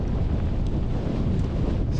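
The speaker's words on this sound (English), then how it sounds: "the wind's picked up" Steady, dense gale-force wind roar buffets the microphone throughout on an open fell ridge, a continuous low rumble with no pauses.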